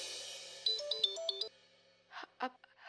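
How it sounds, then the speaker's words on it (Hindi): A mobile phone rings with a short melodic ringtone of bright electronic notes, fairly close, followed by a few soft breathy sounds and rustles as the call from mother is picked up. "माँ का फोन।"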